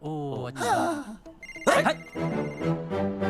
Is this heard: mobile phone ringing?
yes